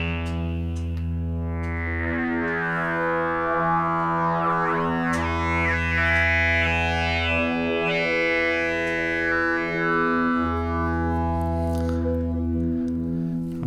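A sustained modular synthesizer sine tone run through a wavefolder, with rich, shifting harmonics, its timbre slowly sweeping and folding as the modulation changes.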